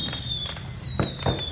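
Fireworks going off outdoors on the 4th of July, a few sharp distant pops and cracks spaced apart over a steady background hum.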